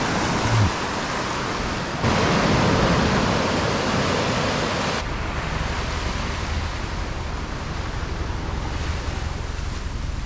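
Surf breaks and washes onto a Maui beach in a steady, loud rush of waves, with wind buffeting the microphone throughout and no voices.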